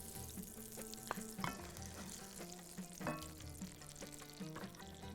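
Onion sautéing in hot oil in a pan, a faint steady sizzle with small stirring clinks and pops, no talking.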